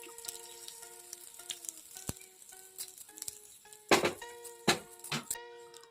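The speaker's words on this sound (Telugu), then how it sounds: "ఈ పోపుని చట్నీలో వేసుకోవడమే" Hot oil tempering with curry leaves and dried red chilli poured into coconut-peanut chutney, sharp sizzling bursts crackling in a few loud surges toward the end over faint background music.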